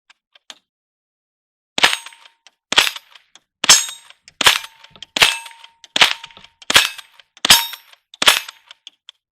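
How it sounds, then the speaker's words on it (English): A .22 rifle fires about nine sharp, cracking shots in a steady rhythm, each with a short metallic ring, after a brief quiet lead-in. "I'm going to shoot it with the 22 that we were working with the other day."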